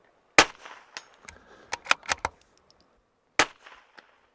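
Rifle shots ring out across a shooting range and smack steel targets, several sharp cracks between 0.4 and 2.3 seconds and another lone report near 3.4 seconds, each trailed by a short metallic clang and echo.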